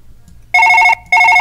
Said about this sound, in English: And the phone's ringing.